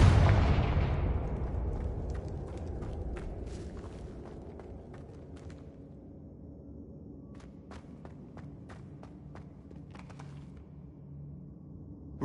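Spell blasts from the Confringo curse in Hogwarts Legacy: a loud explosive burst at the start that decays into a long rumbling tail, followed by scattered sharp crackles and small impacts, with no talk.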